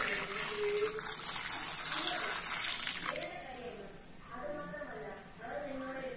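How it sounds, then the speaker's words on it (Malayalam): Water is poured into a container of salted Lovi Lovi fruit, making a steady gushing splash that trails off into softer trickles. A person talks over the end. "ഇനി ആവശ്യത്തിന് വെള്ളം ചേർത്ത് കൊടുക്കാം"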